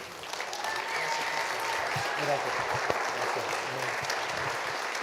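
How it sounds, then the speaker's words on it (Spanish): A church congregation applauds to welcome a visiting pastor during a Sunday service, a dense, steady wash of clapping held for the whole stretch, with soft sustained music underneath. "Yo quiero que usted se ponga de pie y lo reciba con un fuerte aplauso."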